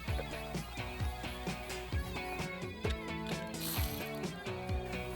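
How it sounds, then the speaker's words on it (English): An 8mm socket on a ratchet tightens hose clamps on an oil separator hose in a 2019-2022 Silverado 1500 with the 3.0 engine, giving a rapid, close series of clicking pawl strokes in steady bursts. "Tighten our clamps down using an 8mm socket."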